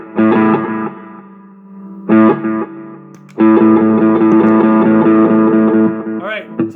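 Electric guitar played through the compressor effect of a Sonicake pedal, distorted chord bursts that stop and restart, then a longer sustained passage, loud and close.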